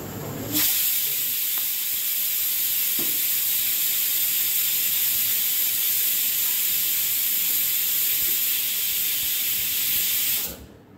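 A pressure cooker on a gas stove, cooking browntop millet khichdi, lets out a loud, steady hissing steam whistle that runs for about ten seconds before cutting off abruptly.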